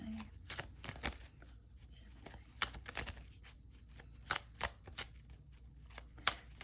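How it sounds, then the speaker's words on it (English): Tarot cards are shuffled in quick riffling bursts, crisp flicks and slaps repeating at an irregular pace, close and fairly quiet. "I love shuffling this way."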